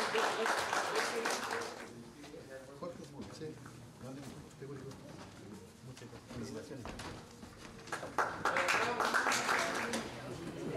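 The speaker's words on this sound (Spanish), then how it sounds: "Fuerte el aplauso para él." Applause for the third-place winner at a chess tournament in San Carlos comes in two bursts of clapping, one at the start and one near the end, with voices talking in the quieter stretch between.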